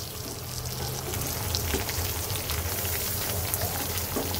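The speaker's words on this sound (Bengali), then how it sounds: "দিয়ে দেব এর মধ্যে পেঁয়াজ কুচি" Chopped onion fries with grated ginger and cumin in hot oil, giving a steady, close crackling sizzle throughout with a low hum underneath at the start.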